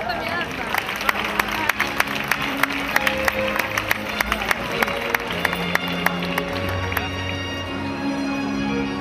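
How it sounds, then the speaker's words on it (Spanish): Festival audience at the Serranilla de Mágina in Huelma applauding a representative's arrival, steady clapping with sharp individual claps standing out and background chatter and music beneath. "Reciban con un fuerte aplauso a Anabel Casa"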